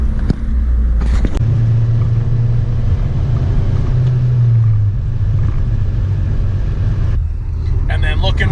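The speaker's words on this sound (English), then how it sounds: "I got my foot on the throttle barely, right? It's like I release my foot, put it back on the throttle," Engine of a Honda Civic Si running with a steady, loud rumble on light throttle, surging and jerking as the throttle is released and reapplied, with a brief clatter early on.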